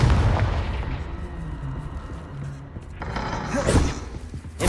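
The Confringo blasting spell explodes in Hogwarts Legacy, heavy booming bursts with a thumping low impact at the start and another sharp blast near the end, moderately loud.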